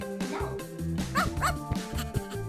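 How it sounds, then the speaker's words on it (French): A small dog barks and whimpers, quick high yips and whiny cries repeating in close succession, near and fairly loud. "Oh, un toutou."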